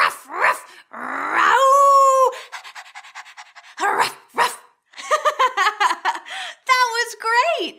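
Preschool children imitate dogs, with panting breaths, growly vocal sounds and a run of short bark-like yelps, loud and close with some laughter between.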